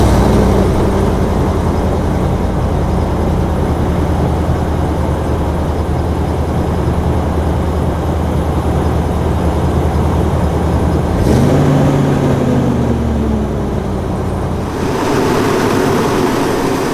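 A 2023 GMC Sierra 2500 AT4 with a 6.6L gas V8 idles loudly and steadily close by after a cold start, then the engine note rises and settles back in a brief rev near the end.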